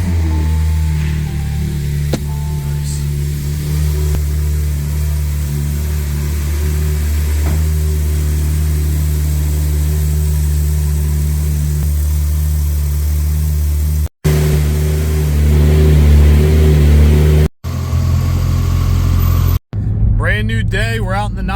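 Porsche 911 turbo engine starting and revving, a steady low mechanical rumble with sharp cuts and a rising rev toward the end, under someone talking.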